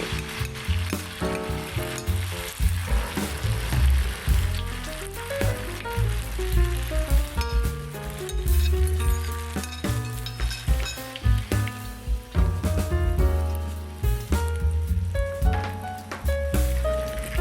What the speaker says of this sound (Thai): เราใส่ไข่ชะอมลงไปทอดกันเลย